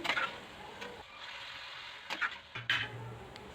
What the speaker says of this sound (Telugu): తర్వాత పసుపు, ఉప్పు, కారం యాడ్ చేసి మళ్ళీ ఒకసారి కలుపుకోవాలి